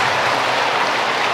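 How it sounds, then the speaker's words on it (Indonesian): Audience clapping for the acting mayor at the inauguration of St. Anthony of Padua Catholic church in Kelapa Lima, Kupang, a dense, loud, even patter of many hands throughout, with no talk. "Tepuk tangan untuk dia."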